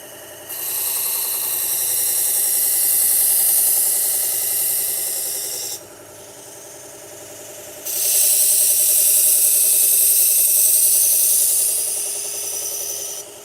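A Toolker belt grinder running a 120 grit belt at 2,000 RPM sharpens a knife edge, giving a loud, continuous abrasive hiss in two long passes separated by a brief quieter stretch of motor hum.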